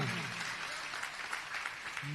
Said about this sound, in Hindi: जोरदार तालियां बजाइएगा।